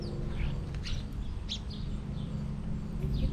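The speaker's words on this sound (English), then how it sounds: "Listen to the sounds of the birds." Several short chirps and calls from sparrows at a feeder, scattered over a steady low rumble of background noise, moderately near.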